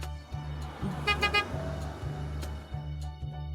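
A few short taxi horn toots sound over steady background music, moderately loud and close, followed by faint traffic.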